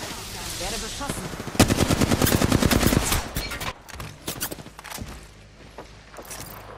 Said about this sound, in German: Werde beschossen.